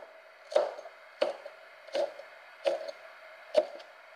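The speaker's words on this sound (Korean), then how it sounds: "고추 두 개를 어슷썰기를 한후 씨는 제거해 놓습니다" Knife cutting two chili peppers diagonally on a cutting board while preparing abalone and sea squirt cold raw fish soup, five distinct close chopping thuds evenly spaced about two-thirds of a second apart.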